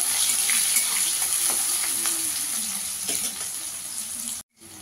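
Onions and slit green chillies fry in a wok of oil with black cumin seeds, making a continuous close sizzle. The hiss softens slightly toward the end, then cuts off abruptly just before the clip finishes.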